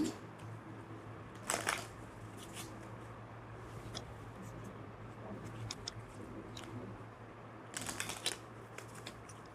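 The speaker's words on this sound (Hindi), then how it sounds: "I will not stop shuffling." Tarot cards being shuffled by hand close up, with two louder riffling bursts and softer rustling and handling between them, with no talking.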